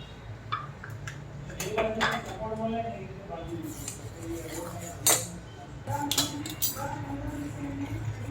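A metal spoon clinks against a cooking pot of banana-chip vegetable curry as sambhar masala is added, in scattered sharp taps, fairly faint, with a voice talking over it.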